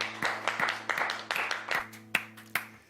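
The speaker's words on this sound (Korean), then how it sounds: "주님께 박수 경배하십시다" Worship congregation clapping together in a church service, a steady series of sharp, fairly close claps repeating at a quick rhythm over a low sustained organ or keyboard tone.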